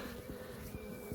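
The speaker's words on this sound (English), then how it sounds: "here you can see what the bees have been doing. They're building fresh comb" Honeybees swarm around a relocated beehive with steady, dense buzzing that sounds close and continuous, with no talk.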